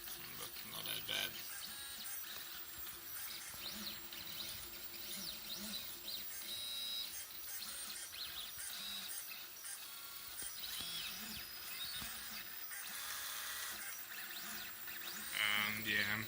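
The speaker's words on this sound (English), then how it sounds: "I'm printing it at 55 millimeters per second." A 3D printer prints a PLA marble machine part at 55 millimeters per second, its stepper motors whirring and warbling in shifting pitches through a continuous, moderately close run of movements.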